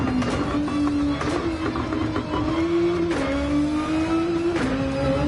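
A Nissan GT-R on a hot lap in Gran Turismo 7, its engine droning steadily as it climbs through the revs and drops back at several gear shifts, loud and continuous, with no talking.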